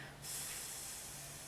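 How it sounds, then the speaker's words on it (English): A spray bottle mists water onto a steampunk-style polymer clay piece: one quiet, sustained airy hiss that starts abruptly and holds steady to the end. "so I've sprayed it a few times and it has dried out"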